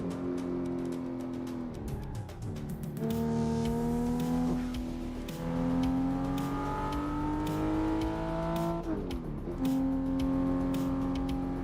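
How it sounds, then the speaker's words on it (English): Car engine in Assetto Corsa on the Shuto Expressway, revving and shifting through gears with steady rising pitch sweeps, loud and continuous with brief gear-change dips, no talk. "You're seeing a guy playing Assetto Corsa in his home office in Florida, driving in Shuto Expressway"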